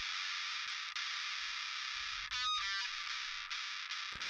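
Harsh, heavily distorted electric guitars with the low end filtered out sustain a continuous buzzing wall of sound, thin with no bass, with a brief burst of change midway.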